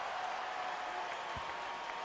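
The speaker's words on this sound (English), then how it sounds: "Crowd's on its feet for a career high for Kobe." An arena crowd at a Lakers–Raptors basketball game applauds and cheers Kobe Bryant's career high, a steady dense roar of clapping and crowd noise that runs throughout.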